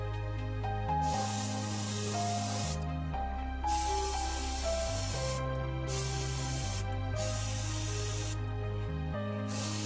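An airbrush with a 0.4 nozzle at 20 to 30 psi sprays VMS Varnish HD onto a scale model in repeated hissing bursts with brief pauses, over steady background music.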